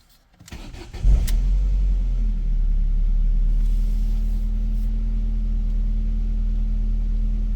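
A Ford Focus Mk1 engine cranks and catches, then settles into a steady, close, loud idle with a constant low hum and no talk.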